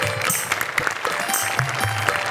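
Studio audience clapping on a Marathi comedy sketch show, dense loud applause filling the whole stretch while voices speak over it.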